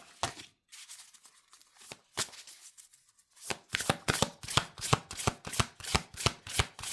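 Tarot cards are shuffled by hand close up, a few scattered slaps and riffles giving way to a steady run of rhythmic shuffling strokes.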